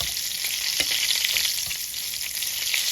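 Duck breast frying in hot oil in a pan: a steady, loud sizzle and crackle that carries through the whole clip, with a few soft pan knocks and no voices.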